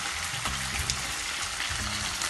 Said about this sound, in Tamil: இப்போ இது நல்லா பொறிஞ்சு வறுத்தோம்